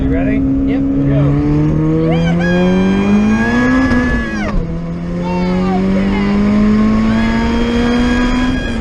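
A big-turbo Honda Civic accelerates hard, heard from inside the car: the engine note climbs steadily and loudly, drops at a quick gear change midway, then rises again under sustained throttle.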